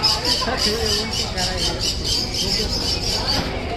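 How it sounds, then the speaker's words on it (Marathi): Many parrots of various kinds squawk at once in an amusement park, a shrill, repeating chorus of calls mixed with bustle and voices of people nearby. "मला वाटतं सगळे वेगवेगळ्या प्रकारचे पोपट आहेत."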